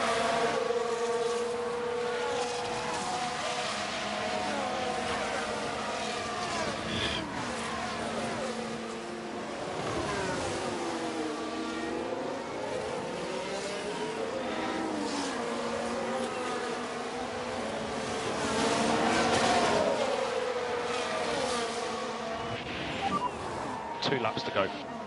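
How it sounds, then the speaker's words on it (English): Formula 1 race cars, two Ferraris running side by side in F1 Manager 23 during a wet Miami race, their engines whining and rising and falling in pitch as they pass, steady and continuous beneath speech. "Two Ferraris going side by side."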